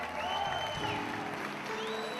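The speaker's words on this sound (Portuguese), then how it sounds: "Toda a igreja aplaudindo ao Senhor por essa vitória." A church congregation applauds together, a steady dense wash of clapping that holds evenly throughout, with a faint sustained musical tone beneath it.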